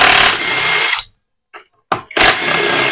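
A power tool rattles while unscrewing the CVT cover bolts on a Honda Beat FI with a rough starter, loud close bursts with a brief silence and short buzzes between them.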